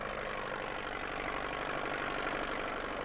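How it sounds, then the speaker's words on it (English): A new tractor hitched to a combine for harvesting oats runs at a steady, even idle, a constant low mechanical drone with no breaks or voices. "Dad has hitched our new tractor to the combine to harvest the oats."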